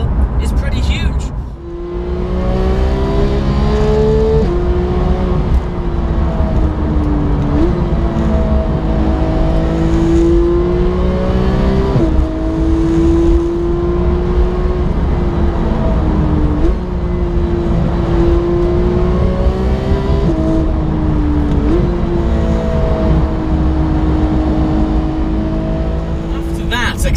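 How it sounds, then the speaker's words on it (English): A Porsche 991 GT3 driven hard, its engine revving loudly and continuously with rising pitch sweeps through the gears and brief dips at shifts, sustained over nearly half a minute. "that 20-second segment of just hooning a GT3"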